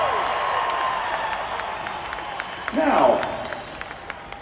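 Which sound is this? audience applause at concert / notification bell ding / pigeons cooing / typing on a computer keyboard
audience applause at concert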